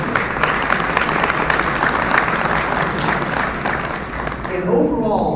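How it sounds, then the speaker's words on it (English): Loud, continuous applause from an audience at a chamber of commerce legislative breakfast in Georgia, a dense wash of many hands clapping with voices mingled in, swelling slightly near the end. "I want a round of applause."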